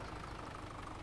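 A steady, low idle from an older Hurleman Turbo 90 tractor engine in Farming Simulator 2017, a continuous even rumble that holds close and constant throughout.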